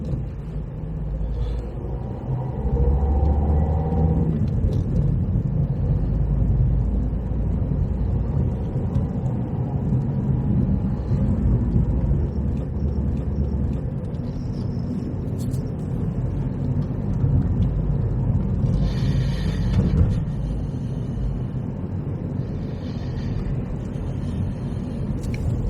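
Inside a car driving through the streets of Folkestone, a steady low engine and road rumble continues throughout, with slight swells as the car pulls away and a few faint clicks and rattles.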